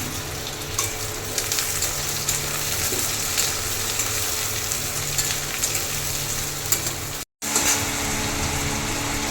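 Chopped potatoes and onions fry in a pan for a Punjabi-style kala chana curry, giving a steady, close sizzle with an even hiss and occasional crackles, broken only once by a brief cut in the sound.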